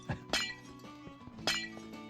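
Glass blocks breaking in Minecraft: two crisp shattering crashes with tinkling tails, separated by about a second, alongside a couple of lighter clicks, fairly quiet and alone.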